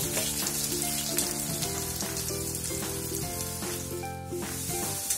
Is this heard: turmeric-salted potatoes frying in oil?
yes